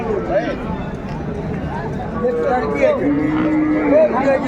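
A Sahiwal cow and calf at a rural cattle market moo in drawn-out, rising and falling calls, heard amid a busy crowd with people talking throughout.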